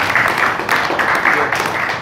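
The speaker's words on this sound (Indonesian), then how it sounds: "Tepuk tangan untuk apresiasi." Steady, dense applause from an audience at a neighborhood community gathering of local RT/RW association leaders in Angke, clapping continuously and fairly close for the whole stretch, with no speech over it.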